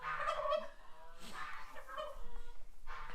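A turkey named as a fun farm bird gobbles loudly and close by, several rattling calls running together over the clip's full length, with more poultry calling around it in the straw and no talk heard.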